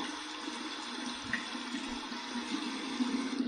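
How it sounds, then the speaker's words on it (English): Cold tap water runs steadily over an alum block held under the faucet, making a continuous close hiss and splash with no talking. "Here's the alum block. I'm going to run it under some cold water."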